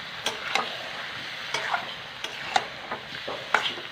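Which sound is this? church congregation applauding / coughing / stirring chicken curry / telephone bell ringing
stirring chicken curry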